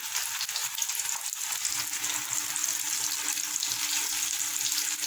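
Spice-coated brain sizzles in very hot oil, a loud, steady frying crackle and hiss heard up close for several seconds without any voices.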